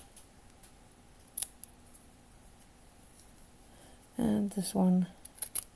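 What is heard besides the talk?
scissors cutting corners off a room box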